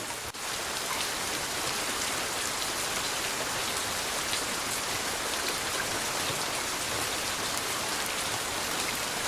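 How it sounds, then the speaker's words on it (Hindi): Steady, dense rain falling on a surface, a continuous close hiss of drops lasting throughout with no voices. "अरे बारिश को अभी आनी थी।"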